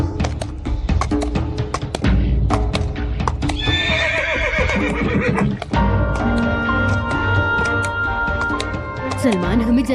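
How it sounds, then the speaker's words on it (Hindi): Horse hooves clip-clopping in quick, steady beats, with loud neighs and whinnies breaking in, in a TV drama scene; voices speak over and between the hoofbeats. "घोड़ा चलाओगे?"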